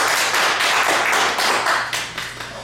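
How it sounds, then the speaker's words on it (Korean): An audience applauds a club president at a speech class, a short burst of dense clapping from a group nearby that starts thinning toward the end. "박수 한번 보내주시죠."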